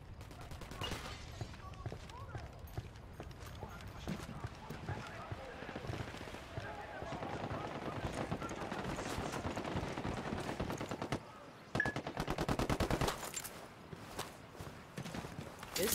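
Gunfire in Ghost Recon Wildlands during a firefight with enemies, scattered shots and short bursts at moderate distance beneath talk, with a denser volley near the end.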